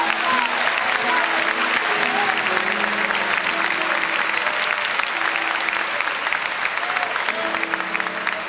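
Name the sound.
congregation applause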